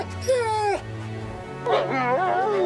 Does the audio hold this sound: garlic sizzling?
no